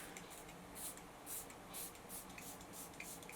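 Hourglass Vanish Soft Focus setting spray spritzing in a series of short, soft hissing bursts, about eight quick sprays in steady rhythm, close and quiet with no talking.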